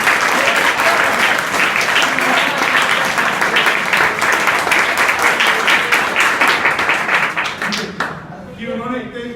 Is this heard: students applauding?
yes